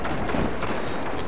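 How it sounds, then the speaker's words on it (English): Explosions in Destiny PvP gameplay, a dense rumbling burst of blasts and gunfire filling the short moment loudly without pause. "Oh, that's explosives."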